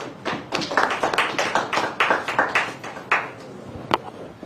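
Scattered hand claps from a small group at a women's football sponsorship event: sharp, separate slaps in an uneven rhythm that thin out toward the end, fairly close, with no talking.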